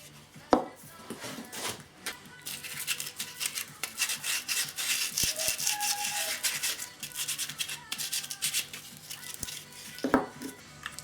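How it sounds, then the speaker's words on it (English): Sandpaper rubs along the edges of a small wooden cube in quick back-and-forth scratchy strokes, close and continuous, with a few light knocks of the wood being handled. "now you just need a little bit of sandpaper just to take the very edges off"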